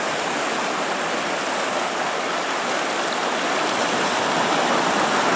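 The Razdolnaya River near Pokrovka flows steadily, a dense even hiss of rushing water without pauses or voices.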